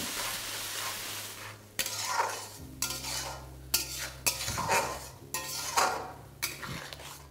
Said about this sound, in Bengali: এবার এটাকে ভালো করে এইভাবে মেশাতে থাকুন।